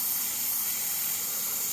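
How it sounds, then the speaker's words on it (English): Airbrush spraying yellow paint onto a stormy-sky lightning painting, a steady, close, breathy hiss of air and paint that runs unbroken with no talk. "So I'm just spraying the yellow in."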